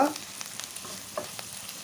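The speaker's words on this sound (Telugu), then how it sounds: "ఇలా పసుపు కూడా ఆయిల్లో మంచిగా వేయించుకున్న తర్వాత" Turmeric frying in hot oil in a pan while cooking black-eyed peas, a quiet steady sizzle with light scrapes of stirring, close up and without voices.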